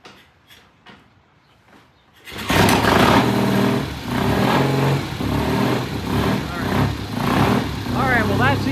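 A vintage British motorcycle fires up after a kick start on its side stand, soft clicks and a voice first, then the engine catches and runs loudly nearby with an uneven, throbbing idle.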